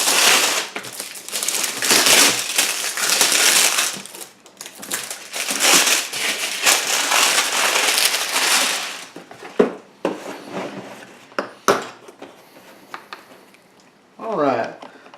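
Crinkling and rustling of plastic packaging being pulled off a Barracuda chuck system in its case, busy crackly bursts for several seconds, then sparser rustles, clicks and a brief voice near the end.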